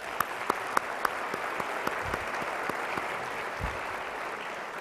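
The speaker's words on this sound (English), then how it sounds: "Now let's give a round of applause for all of our nominees." An audience at an awards banquet claps for the nominees, a steady roomful of applause with a few sharp, close claps standing out early on, no voices over it.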